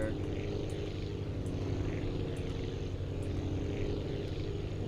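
A propeller plane takes off in Aviassembly, its engine giving a loud, steady droning hum with a buzzing, harmonic tone that holds even and close throughout.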